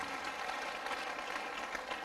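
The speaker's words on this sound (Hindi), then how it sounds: "मैं चाहूंगा इनके लिए जोरदार ताली बजाएं आप" An audience at a direct-selling business seminar claps steadily, a dense wash of applause from many hands in a hall, moderately loud and continuous with no speech over it.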